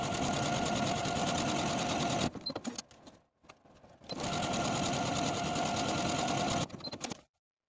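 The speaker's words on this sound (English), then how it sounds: "I'm going to take it to my sewing machine and sew all 5 buttonholes." A sewing machine sews buttonholes, running steadily in two long bursts of rapid stitching, with a brief uneven pause between them as the fabric is adjusted.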